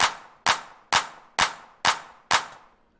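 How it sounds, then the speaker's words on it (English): A plain, unprocessed clap sample from FL Studio repeats six times at an even pace, each a sharp, bright crack with a short decaying tail, loud and isolated with no voices. "here's a normal clap."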